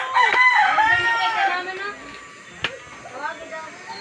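A fighting rooster crows loudly close by in the Philippines, followed by a second shorter crow, with talk and other farm sounds around it.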